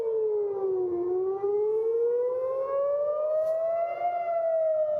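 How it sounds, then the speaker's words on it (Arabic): Civil defense air raid sirens wail over Tel Aviv during a rocket attack, one loud sustained tone slowly dipping then rising in pitch, steady and alone without voices. "بالتأكيد صفارات الإنذار"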